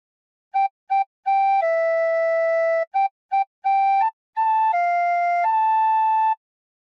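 A tin whistle plays the opening phrase of How Great Thou Art, clear sustained notes broken by short repeated blows, loud and close with no voices.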